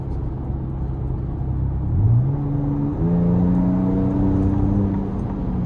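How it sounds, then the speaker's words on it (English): A 2026 Ford Ranger Raptor twin turbo pickup runs with its exhaust in Baja mode, a steady interior rumble that rises as it revs up around midway and holds a smooth, moderately loud drone. "you're able to have 4 different modes in terms of the exhaust note you get here"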